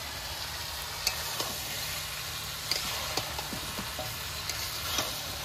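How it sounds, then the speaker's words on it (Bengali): Meat sizzling in a pan with ground spice paste and garlic, a steady close frying hiss with occasional light clicks of stirring, no talking. "এরপরে মাংসের সাথে নেড়ে চেড়ে ভালো করে কষিয়ে নেব।"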